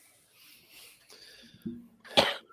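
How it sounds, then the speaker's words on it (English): A single sharp cough bursts out near the end, close and fairly loud, after a stretch of faint background noise. "Yeah, develop a cough."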